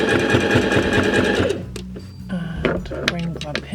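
A sewing machine stitches back and forth on fabric for a fabric box quilting project, its rapid mechanical whir loud and close at first, then breaking into shorter bursts with clicks and handling noises.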